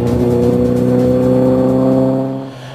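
A rally car in the 2006 Asia-Pacific Rally Championship races past kiwi fruit orchards, its engine loud and close with a strong harmonic drone that eases off as it passes.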